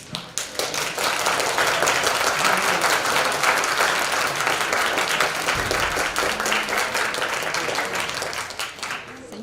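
An audience at a book presentation at a university applauds steadily, many hands clapping together in a sustained, loud wave that tapers off near the end.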